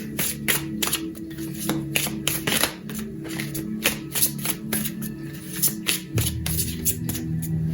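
Tarot cards shuffled by hand for a reading make a close, crisp run of riffling and sliding bursts in an uneven rhythm, repeating throughout with no talk over them.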